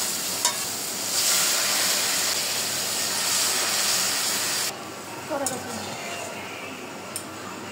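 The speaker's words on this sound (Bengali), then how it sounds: "জল দিয়ে দিই।" Hot pan hisses and sizzles loudly as water goes in over ginger, cumin, chili, turmeric and salt, a steady steamy roar that drops off abruptly, then lighter clinks and stirring.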